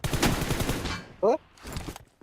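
Rapid gunfire from a shooting video game rattles loudly over excited talk for about a second, followed by a short sharp tone and a fainter burst.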